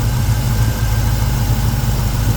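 A 1968 Chevy Camaro SS V8, freshly fitted with new plug wires to cure a misfire, idles on a cold start with a steady, deep, lumpy rumble close by, running evenly throughout.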